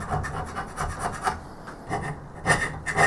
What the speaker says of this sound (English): I'm going to have to scrape in this top surface all over again.